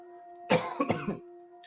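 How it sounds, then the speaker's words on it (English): A short burst of coughing from someone with a bad cold, two or three harsh coughs close together, close to the mic over a steady low electrical hum. "I might cough in between because I'm still suffering from bad cold"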